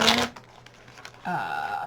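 A deck of playing cards is shuffled close by, giving a rapid fluttering riffle at the start, then quieter handling rustles and a further soft riffling burst, with no talk.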